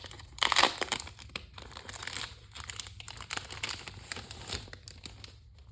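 A weekly diary's packaging crinkles and tears close by, with a loud opening rip followed by continuous irregular plastic rustling and crunching.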